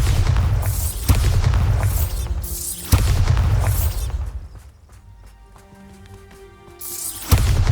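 Loud booming blasts from the Bombarda spell in Hogwarts Legacy, one after another, each a sharp burst with a deep rumbling tail. A quieter stretch with faint tonal background sounds follows, then another blast hits.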